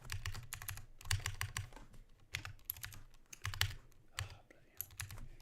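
Keys clatter on a computer keyboard in quick bursts with brief pauses, close and fairly quiet, while someone codes in C#.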